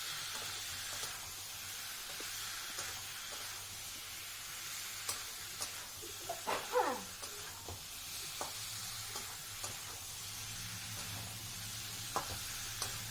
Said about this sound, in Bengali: সিদ্ধ করা কচুটাকে দিয়ে মশলার সঙ্গে ভালো করে কষিয়ে নেব।